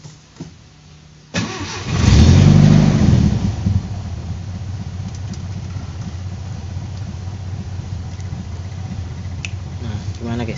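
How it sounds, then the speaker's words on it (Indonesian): A classic car's engine cranks and catches with a loud burst, then settles into a steady, close idle that runs on alone. "suara mesinnya seperti apa"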